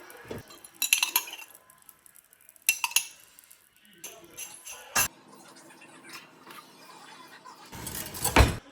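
Metal spoon clinking and scraping against a pot while biryani rice is mixed during dum cooking, in a few separate bursts of clatter with quiet gaps between them.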